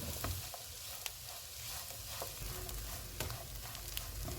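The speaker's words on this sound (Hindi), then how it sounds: "चूल्हे को मीडियम कर देते हैं और इनको 2 से 3 मिनट तक भूनेंगे।" Boiled, mashed potatoes with coriander and salt fry in a pan over medium heat, giving a soft, steady sizzle with occasional stirring scrapes and taps, fairly quiet and close, with no talking.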